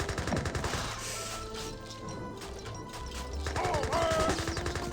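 Gunfire aimed at a cavalry stable in an Age of Empires 3 tournament match: dense, continuous volleys of musket and Gatling-style shots crackling close and loud, with no pause across the short stretch.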